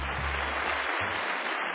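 Applause from a studio audience and jury on a product pitch competition show, a dense steady patter of clapping at moderate level with low hum underneath, no speech over it.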